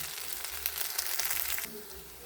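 Spices for a homestyle chicken bhuna fry in a pan over medium heat with a faint, even sizzle that cuts off abruptly partway through, leaving quiet room tone.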